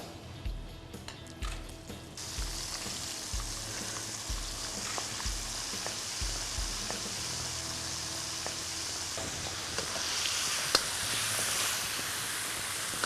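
Batter-coated squid pieces frying in hot oil over lowered heat for a Thai stir-fry, a steady bright sizzle that builds after a few soft knocks at the start and holds loud and continuous, with no talk.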